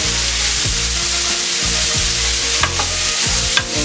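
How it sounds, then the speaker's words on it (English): Food is stirred in a hot pan after the heat is cut off, a loud, close sizzle with periodic scraping strokes and a couple of sharper clacks near the end. "and keep stirring them."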